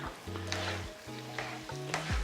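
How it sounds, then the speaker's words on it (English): Bucatini amatriciana with grated pecorino being stirred in a hot pan, a steady sizzle and frying crackle with soft scraping strokes running throughout, fairly close and with no voices. "And then we'll just give it a good stir."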